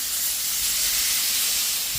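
Steak sizzles on a grill with a little oil, a loud, continuous, close hiss that stays steady and unbroken throughout.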